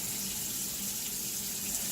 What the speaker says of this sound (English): and then get your water, hot water, to as hot as you can stand it